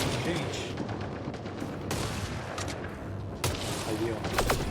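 Gunfire from a shooter in a video game: scattered sharp shots and bursts at moderate loudness, spaced irregularly over ambient game noise, with someone talking in between.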